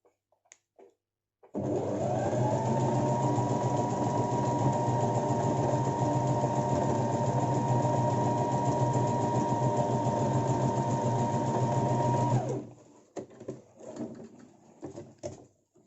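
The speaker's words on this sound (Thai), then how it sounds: "มาค่ะเดี๋ยวขอเย็บตรงนี้ให้ดูก่อนนะคะ" A sewing machine runs steadily for about eleven seconds as it stitches fabric in a beginner's straight-line practice, a loud continuous motor whir that starts and stops abruptly, with faint handling noises afterward.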